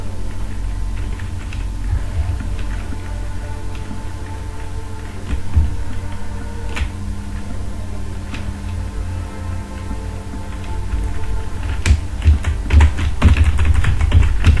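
Computer keyboard typing while filling in an Excel spreadsheet: irregular, close key clicks over a steady low hum, sparse at first and then bunching into quicker bursts near the end.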